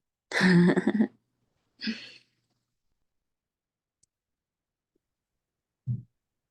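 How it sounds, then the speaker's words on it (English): One close throat clearing, followed by a shorter rasp and a soft low grunt, with silence between. "Sorry, I was clearing my throat."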